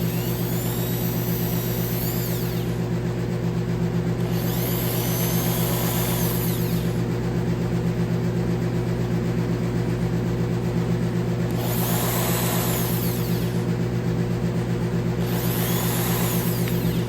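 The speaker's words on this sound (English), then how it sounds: "Again, run it backwards first." A power drill runs in reverse with a constant motor whine, loud and close, with periodic rising and falling grinding swells as it works on a 2009 Police Special.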